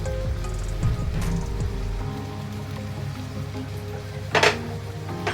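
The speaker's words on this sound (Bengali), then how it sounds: "এবার তার মধ্যে দিয়ে দিচ্ছি এই দুধটা" Milk is poured into a pan of melting pera for carrot halwa, giving a steady low liquid rush and gentle bubbling sizzle, with a brief sharper clatter near the end.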